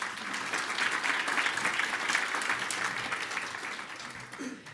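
An audience at a business economic progress event applauds, a full, sustained burst of many hands clapping that swells and then tapers off near the end.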